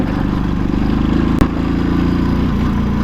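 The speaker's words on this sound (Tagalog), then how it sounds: "maraming motor dito" Motorcycle engine on a wide road, a steady mid-pitched drone with a tight harmonic buzz running throughout, and one sharp clack partway through.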